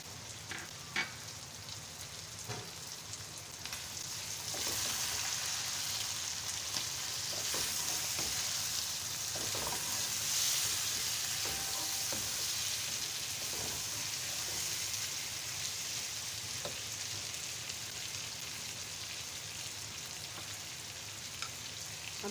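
Chopped tomatoes and green chillies sizzle in a hot pan for a chicken masala, a steady crackling fry that swells after the first few seconds and holds with light stirring scrapes, no talk.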